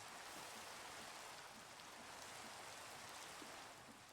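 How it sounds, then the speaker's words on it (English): Steady rain falling in the modded Minecraft world of the ATM 8 modpack, a continuous close hiss of drops that holds evenly for the whole stretch with no talk over it. "Classic raining."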